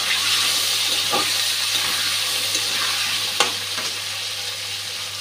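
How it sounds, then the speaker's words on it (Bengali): Potatoes frying in oil with salt and turmeric, a steady close sizzle and hiss with a few light stirring scrapes and a brief clink. "নুন হলুদ দিয়ে আলুটা ভেজে নেবো ভালো করে।"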